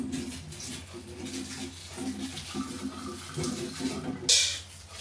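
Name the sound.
washing cloves under running water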